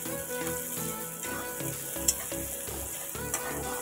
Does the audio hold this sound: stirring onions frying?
yes